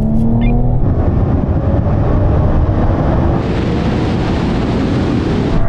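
A tuned hyper hatchback launches hard in a drag race after a gearbox kick-down, its engine roaring loud and steady with strong wind rush throughout.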